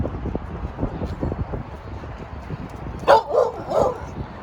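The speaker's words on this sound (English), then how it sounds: "And there's the Molly girl barking as usual" A dog barks three times in quick succession, fairly close, over a low rustling background of wind and movement.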